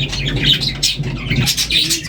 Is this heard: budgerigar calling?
yes